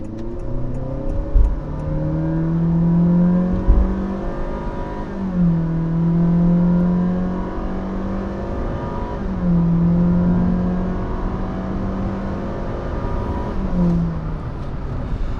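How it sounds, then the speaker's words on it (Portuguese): A Honda City with a CVT transmission accelerates from a stop in drive. The engine holds a steady droning pitch that rises and settles in smooth, repeated surges rather than stepped gear changes, heard loud from inside the car. "Ó, vem um carro lá atrás, vou acelerar logo."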